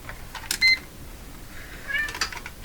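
A cat meowing indoors, two short bright meows about a second and a half apart, fairly close and clear over a quiet background.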